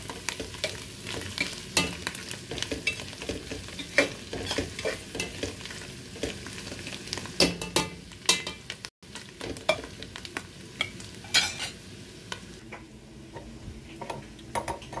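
Green chilies stir-fry in a pan for shrimp noodles, giving a continuous close sizzle broken by repeated scraping and clicking stirs of the utensil, with no one speaking.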